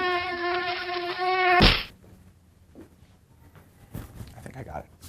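A mosquito whines close to the microphone with a loud, steady buzz for about a second and a half, then it is cut off by a sharp slap and only faint rustling follows.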